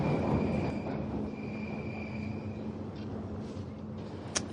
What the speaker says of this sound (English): I hear the clacking sound of the track